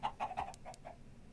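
Chickens in the Minecraft video game cluck in a quick series of five or six short calls, fairly faint and close together, with no talk over them.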